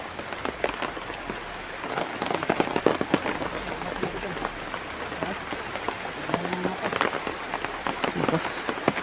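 Steady rain patters and splashes on surfaces nearby, with scattered sharper drops and a faint voice briefly underneath.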